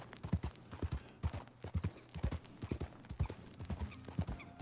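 Horse hooves clip-clopping at a steady riding gait in Red Dead Online, a close, rhythmic run of paired thuds repeating evenly throughout, with no talk over them.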